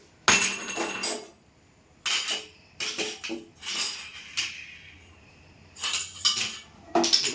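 Metal gas stove burner parts are lifted off and handled, giving several bursts of clinking and clattering metal close by, separated by short quiet gaps.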